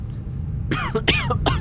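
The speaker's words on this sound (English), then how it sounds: "I need to stop coughing." Three or four harsh, hacking coughs in quick succession from a player during Raven - Legacy of a Master Thief gameplay, over a low background rumble, close and fairly loud.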